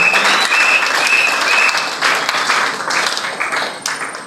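A church congregation applauds, with dense, steady clapping from many hands filling the room at close range and fading slightly toward the end.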